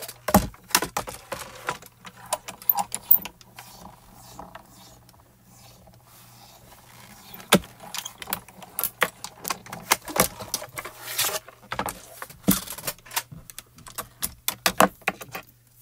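A Spellbinders Platinum die-cutting machine presses a Betterpress plate through paper, giving irregular clicks, ratcheting and mechanical clatter with a low hum and quiet gaps between bursts.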